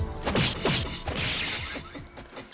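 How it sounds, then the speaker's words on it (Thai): Whirlwind storm skill attack in the mobile game Elsword: Evolution, a quick series of swooshing, whipping strikes with sharp impacts over about two seconds, fairly quiet and heard alone. "สกิลนี่สกิลพายุหมุนสลาตัน"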